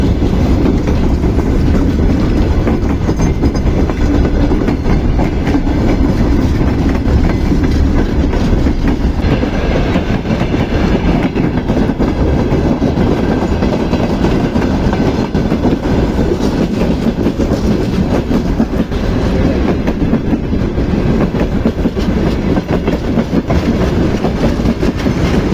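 A train runs through snowy country, its loud, steady rumble and clickety-clack of wheels on rails continuing without a break from start to finish.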